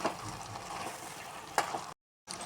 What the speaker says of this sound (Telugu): ఈ టమాటాలు కొంచెం ఉడికే వరకు మూత పెట్టేసుకుందాం. మధ్యలో కొంచెం కలుపుతూ ఉండాలి.